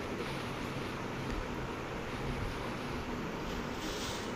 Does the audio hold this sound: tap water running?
yes